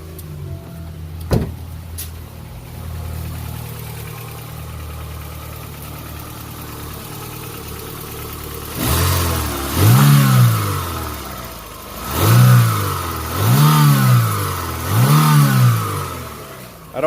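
A Chevrolet Aveo bought from a Copart auction starts and settles into a steady idle, then revs up several times in rhythmic surges; the car's motor mount is missing.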